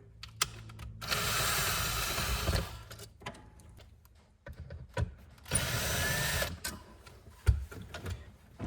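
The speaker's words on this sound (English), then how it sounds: "I got 4 screws to take out that hold the console itself in, the console shifter plate" Screws come out of the console shifter plate of a C3 Corvette during interior removal, heard as two sustained whirring bursts from a power driver, separated by clicks, rattles and handling noises close by.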